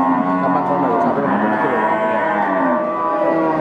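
A large Pegon cow lows at a busy cattle market, a long harmonic moo held steadily across several seconds, loud and close, with market voices faintly mixed in.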